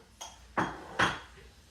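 Spoon knocking against a pot while stirring French onion-style soup, three sharp metallic clinks spaced roughly half a second apart, close and moderately loud in a quiet kitchen.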